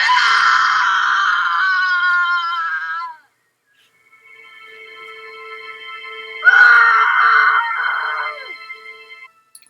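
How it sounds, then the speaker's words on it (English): A woman screams in a drama episode, two long shrill wailing bursts separated by a brief silence with a faint lower tone, loud and close with no talk over it. "What is she screaming about?"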